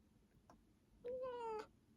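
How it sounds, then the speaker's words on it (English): A cat gives a single clear, fairly loud meow near the end, after a couple of faint soft clicks in a quiet room. "I didn't find a book, but I found a cat."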